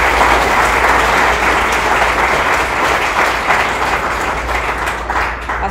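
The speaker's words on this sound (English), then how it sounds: "So let's give a round of applause for them." Audience at an art forum lecture gives a loud, sustained round of applause, dense clapping throughout with no talk.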